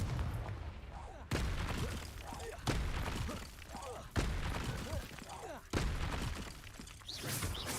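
Confringo fire spell blasts in Hogwarts Legacy, four sharp explosive bursts spaced evenly about a second and a half apart, each a loud crack followed by a crackling, rumbling decay, with a voice heard between them.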